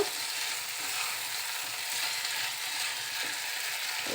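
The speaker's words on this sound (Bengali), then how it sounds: "আলুগুলো দিয়েও আমি খুব সুন্দরভাবে দুই তিন মিনিট কষিয়ে নেব" Potatoes with spices frying for an egg curry, producing a continuous close sizzle and hiss with slight swells and faint soft stirring movements beneath, and no voices.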